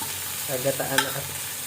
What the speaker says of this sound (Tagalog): gisahan lang natin ng sibuyas, bawang